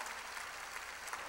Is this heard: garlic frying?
no